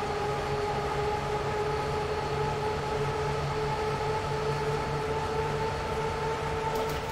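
An ÖBB 1245 electric locomotive in a train simulator game, running with a steady drone and humming tones at constant loudness throughout, with no voices.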